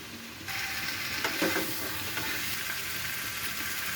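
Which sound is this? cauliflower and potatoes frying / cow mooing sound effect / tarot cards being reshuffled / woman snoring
cauliflower and potatoes frying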